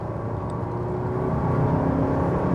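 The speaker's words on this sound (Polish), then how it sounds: "Żeby zademonstrować Państwu osiągi w trybie Dynamic, proszę bardzo, świeci nam się Dynamic na wyświetlaczu, pedał w podłogę" A Volvo XC90 D5 with 235 hp diesel engine accelerating hard in Dynamic mode, heard from inside the cabin as a steady, rising engine drone and road roar, no speech.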